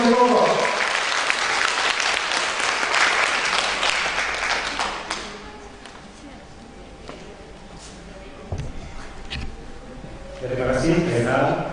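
Audience applause greets a chef and his team at a baking demo, a dense, loud wash of clapping for about five seconds that thins to scattered claps, then swells again near the end, with talk over it.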